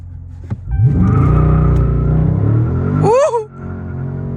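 A widebody Dodge Charger Scat Pack launches hard, its engine roaring up loudly before a sharp burst of tire squeal as the rear wheels spin, then the revs drop away.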